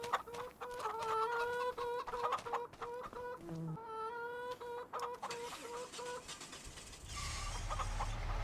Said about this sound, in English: Chickens are doing good.